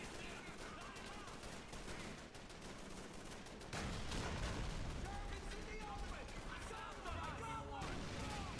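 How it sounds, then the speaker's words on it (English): Explosions and dense gunfire from the video game Call of Duty 3 rumble continuously, growing louder midway with heavy blasts and rapid shots, while a voice talks over the din. "Grenades are coming."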